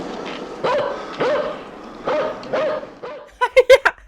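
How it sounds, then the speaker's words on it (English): A dog or dingo in the 1981 Australian film Road Games barks in a quick burst of about five sharp, loud, close barks near the end, after a stretch of rough, broadband noise with periodic swells. "he's definitely barking now"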